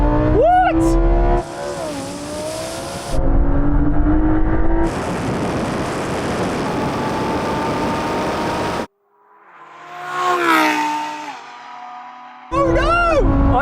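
A Lamborghini Sterrato launching in a drag race against a Porsche 911 Dakar, loud engines revving hard and climbing through gears, with a sudden cut near the middle and more revving and a voice later.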